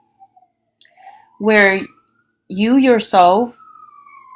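A siren wails in rising and falling sweeps in the background while a person speaks softly nearby, the tone loud and clear over the talk.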